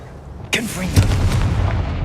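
A Confringo blasting spell goes off in Hogwarts Legacy, a sudden loud explosive boom followed by a rumbling, crackling tail that stays dense and heavy to the end.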